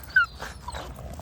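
A dog, a new mother with puppies, gives a short high whimpering cry, then a few softer whines, close and alone.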